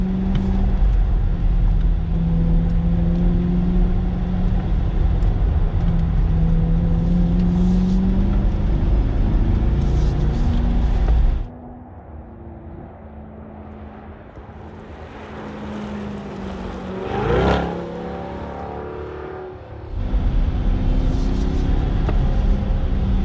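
A mid-engine C8 Corvette on a race track with magnetic ride suspension, its loud engine droning and revving continuously, then dropping off sharply before surging back in at full volume.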